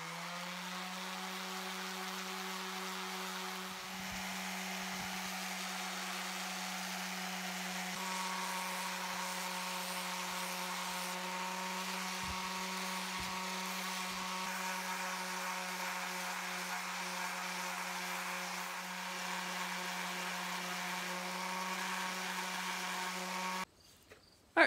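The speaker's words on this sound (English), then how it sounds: "I'm just going to go to my random orbit sander and start getting rid of these bandsaw marks, rounding over corners" A random orbit sander with 80 grit sandpaper shapes and rounds over a wooden utensil, a steady close electric whine and hum running continuously and stopping abruptly at the end.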